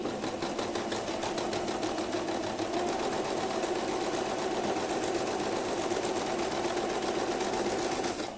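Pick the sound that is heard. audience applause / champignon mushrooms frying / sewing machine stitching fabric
sewing machine stitching fabric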